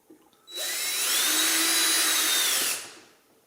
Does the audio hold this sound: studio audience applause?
no